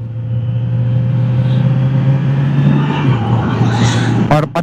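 Motorcycle cruising at around 50–60 with a wireless lavalier mic's noise cancellation on: a constant close engine hum and wind rush, a brief dip in pitch near the end followed by a couple of sharp knocks.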